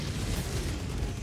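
A deep, rumbling explosion from a strike in Helldivers 2 fills the whole moment. The roar is broad, sustained and close, with no voices over it.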